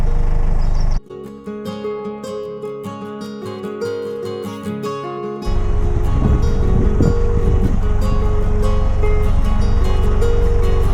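Strong wind roars and buffets loudly against the microphone aboard a 65ft widebeam boat, swelling into a heavy, continuous gusting rush.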